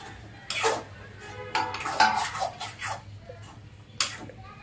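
A spoon clanks and scrapes against a pan while stirring eggplant curry with coriander, sharp metallic knocks and scrapes coming in irregular bursts close by.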